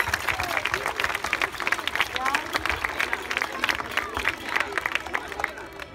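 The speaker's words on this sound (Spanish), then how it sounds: "Un aplauso para Grecia tamén, por fazer este viaje tan largo" Crowd of schoolchildren clapping steadily in welcome for visitors from Greece at a school gathering, dense continuous applause with some babble of voices mixed in.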